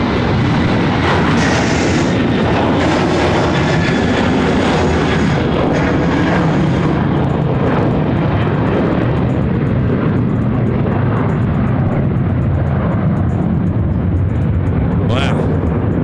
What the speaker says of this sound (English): It's an A330 going to Perth.